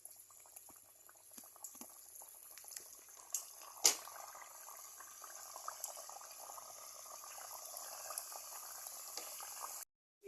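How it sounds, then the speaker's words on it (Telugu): Jaggery and wheat flour biscuits deep frying in hot oil, a steady faint bubbling sizzle with occasional small pops and one sharper crackle, heard close and without talk. "ఆయిల్ వేడైన తర్వాత ఒక్కొక్కటిగా వేసుకుని ఫ్రై చేసుకుందాం."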